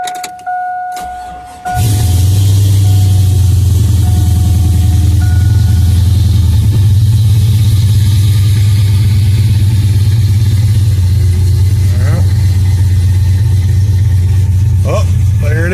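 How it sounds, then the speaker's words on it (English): A 2002 GMC Sierra truck engine cranks and catches after a brief pause, then settles into a loud, steady, close-up idle with a low rumble that runs uninterrupted, with a couple of faint clicks near the end. "let's crank it up and see if our tow mode button works now"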